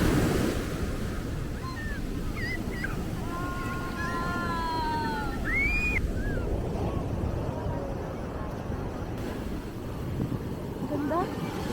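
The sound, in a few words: strong ocean waves at a Zambales beach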